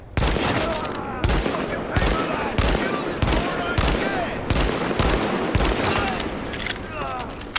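Automatic weapon fire in The Division beta's Dark Zone, a safe house vendor gun, rattling off in repeated loud bursts about every 0.7 seconds, close and steady across the whole stretch.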